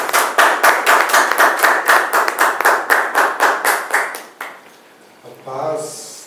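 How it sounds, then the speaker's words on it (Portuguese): A church congregation clapping hands in a quick, even rhythm of strong claps for about four seconds, then trailing off as a voice begins speaking. "Me dá uma salva de palmas, Senhor Jesus."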